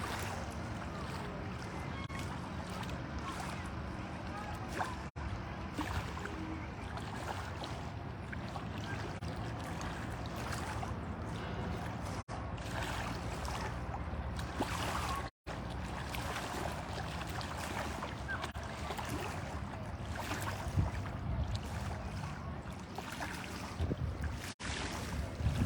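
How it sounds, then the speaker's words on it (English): Steady, faint outdoor wash of wind and water on Lake Cable, where boats are out on the lake, a continuous low rumble with no distinct engine passes. "Everyone out on their boats here on Lake Cable"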